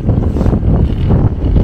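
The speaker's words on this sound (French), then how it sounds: "65 km/h de vent, tu le ressens sur le vélo" Strong wind of about 65 km/h buffets the microphone of a cyclist riding in Normandy, a loud, continuous low rumble with gusty fluctuations and no speech.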